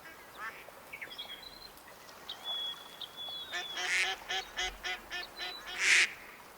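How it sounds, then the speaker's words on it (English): Wild ducks in the hunting game Way of the Hunter call from a marsh in a string of quacks and honking calls that grow louder and more rapid toward the end, with no talking. "these are all just wild ducks there, right?"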